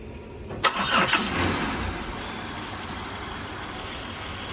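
Car engine cranking on a weak battery boosted by a jumper pack, a short crank that catches and settles into a steady idle, close and loud.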